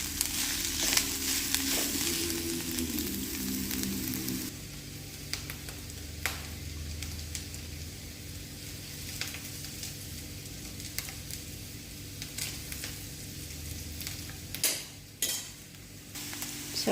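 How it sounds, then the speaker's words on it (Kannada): A hot tempering poured into horse gram sambar gives a loud burst of sizzling, then settles into a softer, steady simmering hiss broken by a few light clinks of a spoon or pot. "ಇದೇ ಒಗ್ಗರಣೆನ ತೆಗೆದು ಸಾಂಬಾರಿಗೆ ಹಾಕ್ಬಿಡ್ತೀನಿ."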